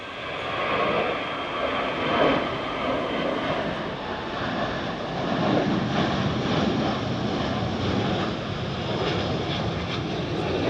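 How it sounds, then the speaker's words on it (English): An EasyJet airliner takes off near Gatwick with a loud, sustained jet engine roar heard from outside, steady throughout with some wind buffeting the microphone. "So keep watching, one's going to take off now. There it goes, there it goes. Another EasyJet."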